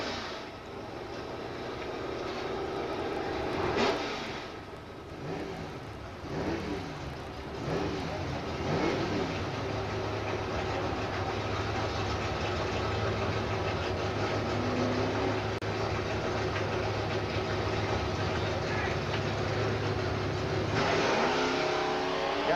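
A Boss Mustang and an El Camino launch side by side down the strip at Jackson Dragway in 1994, engines revving hard and roaring away into the distance, a long sustained loud drone that shifts in pitch as the cars accelerate.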